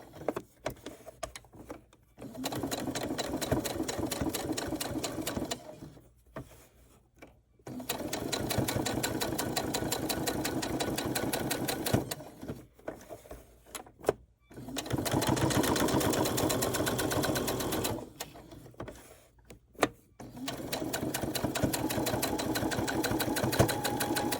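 A sewing machine stitches fabric for a Christmas tree ornament, running in long steady bursts of rapid chattering separated by brief pauses, close and clear with no talk.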